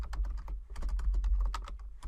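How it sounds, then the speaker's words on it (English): Rapid typing on a computer keyboard, close and crisp, with irregular bursts of key clicks running continuously over a low steady hum, no voices. "That's all we're doing, is typing that out."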